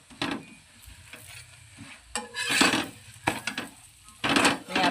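A chapati frying in plenty of oil on a hot pan: bursts of sizzling swell and fade in waves, mixed with occasional scrapes and taps of a turner against the pan.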